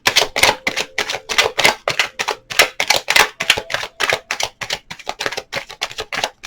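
Tarot cards are shuffled and drawn up close, giving a loud run of crisp, rhythmic card slaps and flicks with short gaps between bursts and no voice.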